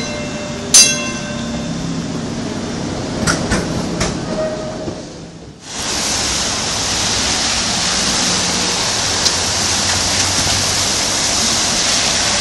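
Rain falls outdoors, and a steady, even hiss takes over after a quieter opening that holds a few faint tonal sounds.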